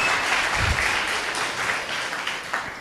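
Scattered, half-hearted clapping from a church congregation during a sermon, a soft steady patter lasting a few seconds without much energy.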